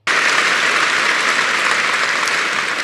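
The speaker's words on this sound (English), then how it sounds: "let's clap for her as she sits there looking very angry" An audience breaks into loud, dense clapping that starts abruptly and holds steady, a continuous wash of many hands with no voices over it.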